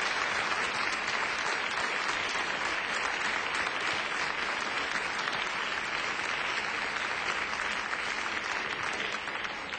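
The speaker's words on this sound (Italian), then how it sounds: "Il presidente Pietro Ingrao, molto applaudito giustamente dal nostro studio" A TV talk-show studio audience applauds steadily and loudly for a guest, an unbroken wash of clapping lasting the whole stretch with no talk.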